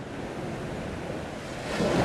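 Sea waves washing onto the shore at Spurn as the tide recedes, a continuous rushing wash with wind noise on the microphone, swelling slightly louder toward the end, no voices.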